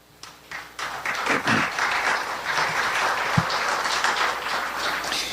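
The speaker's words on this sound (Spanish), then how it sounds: "Las palmas, por favor." Guests at a book presentation applaud an engineer being introduced, clapping that builds quickly from a few hands into a moderate, steady round from a medium-sized crowd, with one sharper thump partway through.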